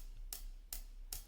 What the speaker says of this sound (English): We have our closed hat, which sounds like this.